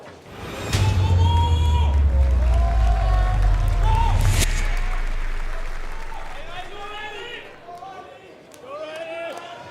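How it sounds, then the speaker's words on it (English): An arena crowd at the Clash Royale League 2024 World Finals cheers and applauds in a loud, sustained roar that swells early and slowly fades, with commentators talking over it throughout. "you can hear the crowd into it here"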